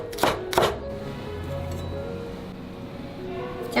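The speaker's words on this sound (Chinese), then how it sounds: "香葱取葱白切碎" Knife chopping scallion whites on a board, two sharp close chops at the start and another at the end, with quiet room noise between.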